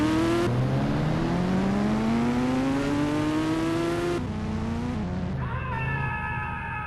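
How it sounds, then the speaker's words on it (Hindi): A vehicle in the mobile game Indian Bike Driving 3D drives off, its synthetic engine tone climbing steadily in pitch as it speeds up, then dropping and shifting near the end. The engine is loud and close, with no voices. "ये तो गाड़ी चल पड़ी"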